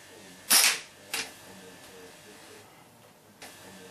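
A single sharp crack from a rifle shot fired at a target, close and loud, followed by a shorter second burst and quiet room tone, with low talk in the background.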